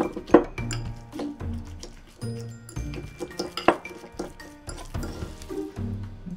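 Marinated pork is stirred with seasoning salt, sesame oil and Shaoxing wine in a bowl: quiet, irregular clinks and scrapes of a utensil against the bowl, repeating in uneven bursts.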